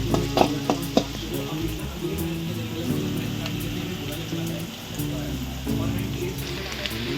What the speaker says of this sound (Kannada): ಎಣ್ಣೆ ಕಾದಿದೆ ಸ್ವಲ್ಪ ಸಾಸಿವೆ ಹಾಕಿ ಸ್ವಲ್ಪ ಈರುಳ್ಳಿ ಈರುಳ್ಳಿ ಚೆನ್ನಾಗಿ ಒಂದು ಸ್ವಲ್ಪ ಫ್ರೈ ಆಗಬೇಕು